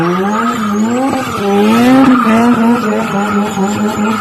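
A Mazda car with a rotary Wankel engine revs hard, its high buzzing whine rising and falling in pitch through repeated surges, loud and close, with tire squeal mixed in and no talking.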